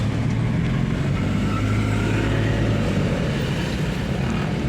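A Toyota Kijang Krista converted to an automatic clutch creeps through stop-and-go traffic, its engine a steady low drone with road rumble inside the cabin, no voices.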